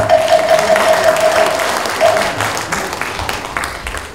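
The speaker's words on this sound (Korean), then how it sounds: "다시 한번 큰 박수 부탁드리겠습니다." Audience applause at a Korean Buddhist newspaper anniversary and inauguration ceremony, a sustained crowd of hands clapping that starts strong and gradually tapers, with a faint tone held briefly near the beginning.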